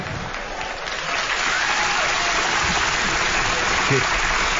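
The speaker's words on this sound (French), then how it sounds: "t'aurais dû laisser les applaudissements dans la salle" Sustained applause from a live studio audience in the room during a Quebec radio talk show broadcast, steady and fairly loud throughout with no voices on top.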